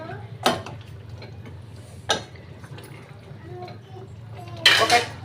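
A utensil stirs chilli chicken in sauce in a pan, with a few sharp clanks against the metal spread over low kitchen background noise.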